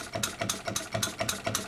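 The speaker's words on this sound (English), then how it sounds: "Now the engine is running with full compression." A true horizontal diesel model engine runs at full compression, firing in a quick, even rhythm of sharp knocking beats, close up and alone.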